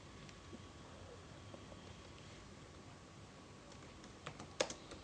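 Quiet typing on a computer keyboard, soft steady key clicks under faint background hiss, with a brief louder burst of keystrokes near the end.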